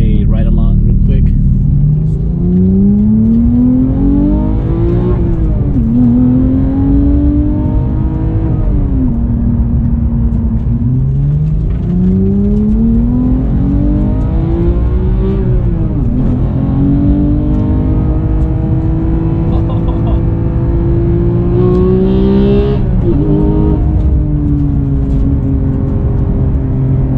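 A Porsche 911 GT3 of the 991.2 generation on a cold-day ride along, its engine loud and close from inside the cabin, rising and falling through repeated revs and shifts with a steady rumble beneath; voices talk over it.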